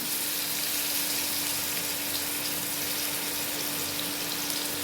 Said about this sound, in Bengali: আলুটা আমি একটুখানি হালকা ভেজে নেব